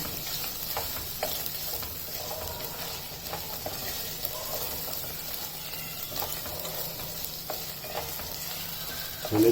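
Green chilies fry in hot oil for a vegetable biryani, sizzling steadily with repeated scrapes and clinks of a stirring spoon throughout, and no voices.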